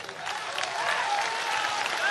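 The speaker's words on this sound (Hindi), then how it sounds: "बजाओ ताली।" Audience applause at a Bageshwar Dham Sarkar religious gathering in Banda, Uttar Pradesh: a steady wash of crowd clapping fills the whole moment, with faint voices and whistles mixed in.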